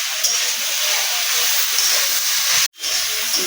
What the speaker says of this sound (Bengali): নিম ফুলগুলো বেগুনের সাথে ভালো করে এবারে ভেজে নেব।